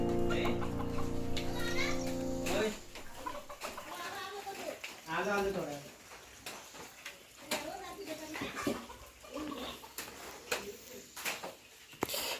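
Roosters cluck and squawk intermittently nearby while people talk over them in a village in Sangameshwar, India, during the monsoon, after a brief burst of loud music at the start.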